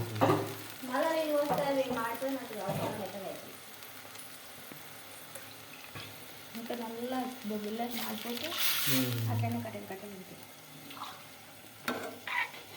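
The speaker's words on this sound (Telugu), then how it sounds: "కలుపుతూనే ఉండు కలుపుతూనే ఉండు" Upma stirred in a pan with chillies frying gives soft sizzling and scraping spoon strokes, under a voice speaking throughout, with a louder hissing burst partway through.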